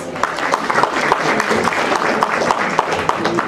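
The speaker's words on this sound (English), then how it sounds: "A huge round of applause for our winners," Applause from an audience greeting prize winners at a college annual prize distribution ceremony, steady dense clapping with sharper individual claps, loud and sustained throughout.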